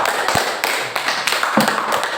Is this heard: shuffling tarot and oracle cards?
no